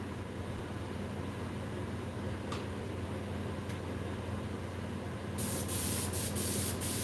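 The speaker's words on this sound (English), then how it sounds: "Corpsing with the Husky drip plastic and heat gun." A Husky heat gun blows steadily on drip plastic, a loud continuous roar throughout with a few faint clicks, growing brighter and stronger near the end.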